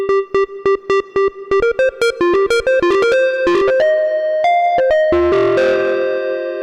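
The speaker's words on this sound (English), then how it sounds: "that must have some distortion on it, I'm assuming" Arturia MiniFreak synthesizer playing a rapid, plucky melodic sequence of distinct notes with heavy distortion and reverb, the notes smearing into a sustained washy tail toward the end; loud and alone.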